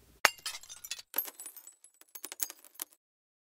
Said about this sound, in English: The breaking of the bottle.